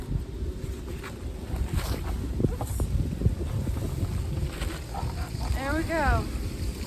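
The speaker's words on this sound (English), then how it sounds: "Hopefully you can hear me over the wind." Wind blows outdoors in a garden during a sweet potato harvest, a continuous rough rumble buffeting the microphone, with brief speech over it.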